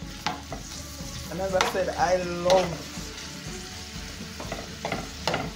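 Seasoning and salt mackerel fry and sizzle in a pot over medium high heat, with a steady crackle broken by stirring scrapes, under a voice speaking briefly.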